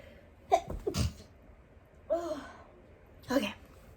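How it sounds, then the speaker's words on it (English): A single close, sharp human sneeze with a gasping intake before it and a few breathy vocal sounds afterward, heard indoors. "I'm about to sneeze."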